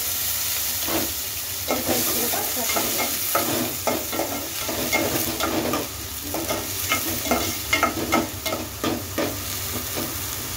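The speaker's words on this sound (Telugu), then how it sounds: "ఆయిల్ మనకి హీట్ ఎక్కాక ఇందులో ఉల్లిపాయ ముక్కలు వేసుకోవాలి." Onion pieces fry in 3-4 spoons of hot oil in a kadai for a mushroom curry, producing a constant close sizzle and hiss with repeated scraping stirs of a spatula at an irregular rhythm.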